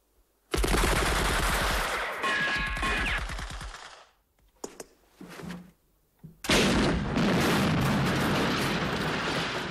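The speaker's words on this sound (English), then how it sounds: "We're getting fired from the church belfry, the mill house, the pub." A 1976 war film battle scene, The Eagle Has Landed, fills with loud, rapid machine-gun bursts, then a lull broken by scattered single shots and rattles, then another heavy roar of gunfire; no voices.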